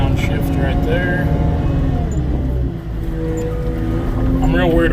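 Cat 289D compact track loader engine droning loudly and steadily up close, with a brief dip in pitch and level midway as it shifts down, and a voice talking over it.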